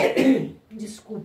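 One person coughs and clears their throat, sounding close and loud, in two short bursts with a brief pause between them.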